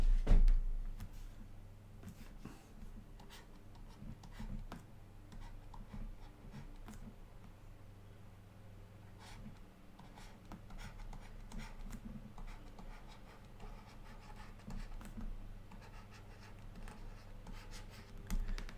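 Pen scratching quietly on paper while equations are written out by hand, with faint irregular strokes and taps over a low background hum.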